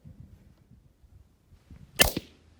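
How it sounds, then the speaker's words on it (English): A single sharp rifle report from a 6.5 rifle firing factory American Whitetail 129 grain Interlock ammunition, loud and close, with a brief echo trailing just after, following a few seconds of quiet outdoor background. "I'm gonna shoot some factory American whitetail 129 grain interlocks."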